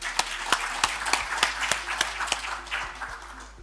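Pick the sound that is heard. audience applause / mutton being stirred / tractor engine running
audience applause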